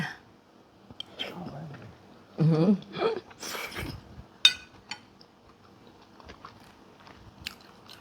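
Someone bites and chews a mouthful of Ubon-style kuay jap noodles up close, with a few wet crunchy bites and chewing amid soft whispered talk and small clinks of utensils, mostly quiet between sounds.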